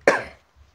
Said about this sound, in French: Je tousse comme ça, de façon continuelle.